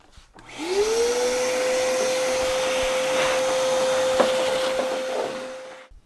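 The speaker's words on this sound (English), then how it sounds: "now I'm just going to put some spray paint here on the backside" Aerosol spray paint hissing onto the backside of a third-generation Toyota Tacoma truck bed, one continuous steady spray of about five seconds, close and fairly loud, with no talking.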